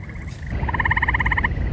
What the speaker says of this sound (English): Man, I hear frogs,